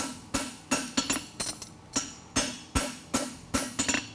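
A hammer strikes the edge of a steel horseshoe, a TS8 Delta Challenger rolled rocker shoe, in a steady series of about a dozen loud, close, ringing blows at an even working rhythm.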